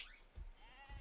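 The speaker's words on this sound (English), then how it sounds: "Help us get some sheep." Sheep bleat in the video game Red Dead Redemption 2, two short wavering bleats in quick succession at moderate distance, faint and alone.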